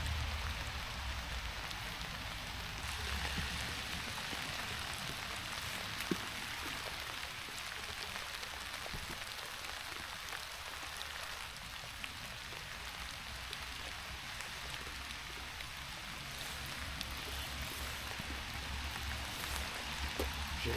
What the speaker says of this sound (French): Voilà, ça va bien pleuvoir là.